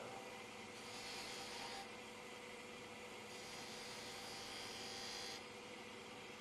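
A skew chisel cuts a V into a spinning wooden spindle on a lathe, a continuous close rasping scrape over the steady whir of the machine, with short brighter bursts as the edge bites in.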